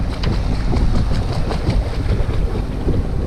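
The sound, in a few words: boat motoring under engine power with wind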